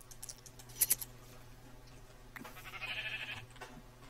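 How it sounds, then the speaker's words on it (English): Sheep bleats from the Minecraft video game, a couple of short bleats mixed with keyboard clicking and quiet game ambience, heard faintly. "Take care of one of these sheep."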